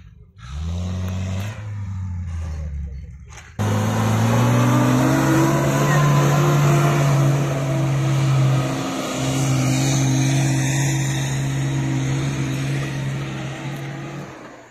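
A UAZ off-road vehicle revs at the start of a trophy-sprint stage on water and sand in Astrakhan. Its loud, close engine drones steadily, then jumps into a heavier, sustained roar that holds with small dips in pitch.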